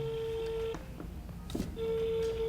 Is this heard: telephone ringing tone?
yes